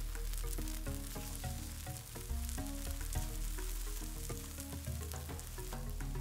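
Takoyaki batter sizzles on a Zojirushi takoyaki plate, a faint, steady crackling fry with light scraping and tapping underneath.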